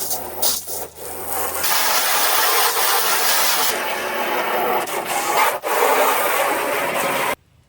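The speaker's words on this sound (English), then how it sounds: "I rub my hand across it" A palm sweeps over a car body surface being prepped for paint, giving a broad, steady rubbing swish for several seconds with brief pauses, close and fairly loud, no talking.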